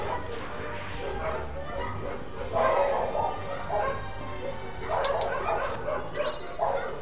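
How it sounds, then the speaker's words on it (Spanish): Dogs in the Kingdom Hearts 2 video game bark and yip in short repeated bursts over a steady background, moderately loud, with a few whimpering tones and no voices. "Ya, los perros están."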